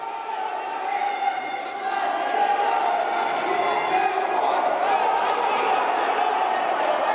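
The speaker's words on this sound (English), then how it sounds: "You can hear the crowd's getting into it." A high school wrestling crowd cheering and shouting in a gym, a dense roar of voices that swells and stays loud throughout.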